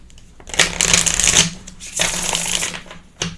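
Tarot cards being shuffled close up, two long riffling bursts followed by a short final flick, crisp and loud against a quiet room.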